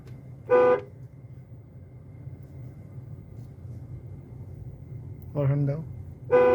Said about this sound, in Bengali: হর্ন দাও।